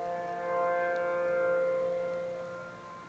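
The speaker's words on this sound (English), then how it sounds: "there's sirens going off everywhere" Tornado warning sirens sound in Wylie, Texas, a steady wailing tone held across the whole stretch, swelling slightly and then easing, with no voices over it.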